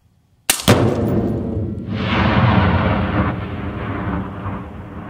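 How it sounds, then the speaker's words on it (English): A buried explosive set off by a silenced sniper rifle in an open desert, one sudden massive blast followed by a long rumbling roar and slow natural ring-off and decay. "the expert used a sniper's rifle with a silencer to set off the explosive."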